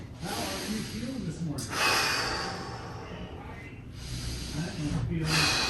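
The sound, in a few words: breathing out during a passive stretch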